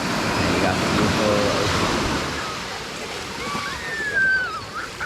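Ocean waves wash over a lava rock shore, giving a steady, broad rushing surf that swells and eases. Faint voices can be heard in the background.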